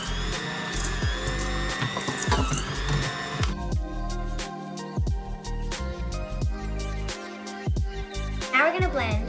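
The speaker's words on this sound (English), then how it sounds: "Now we're gonna get this all blended up." An electric mixer blends chocolate chip cookie batter with a close, rattling mechanical whir that shifts in pitch and grinds unevenly as the thick dough resists, with some talking over it.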